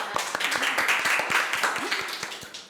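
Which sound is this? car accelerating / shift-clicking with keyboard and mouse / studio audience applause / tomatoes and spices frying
studio audience applause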